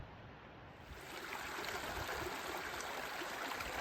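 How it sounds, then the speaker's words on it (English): Trout Creek rushes past a trail crossing at the bottom between two mountains on the Appalachian Trail. The water makes a steady, close hiss and gurgle that swells slightly and then holds even throughout. "I'm crossing Trout Creek."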